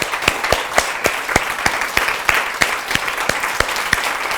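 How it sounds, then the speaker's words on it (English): An audience gives three speakers another round of applause at an evening event, loud, continuous clapping with sharp individual claps standing out at a quick, even rhythm throughout. "Let's give our 3 speakers another round of applause."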